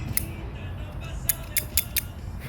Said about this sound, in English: So that's why I'm going for a straight cut for this cigar.